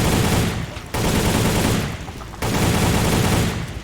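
Heavy, continuous gunfire from the Soldier of Fortune: Payback shooter, loud and close, coming in two long sustained bursts separated by a brief dip in volume.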